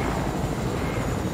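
A helicopter flies in the Fortnite video game, its rotor and engine making a dense, steady roar that fills the whole stretch at a constant level, with no talk over it.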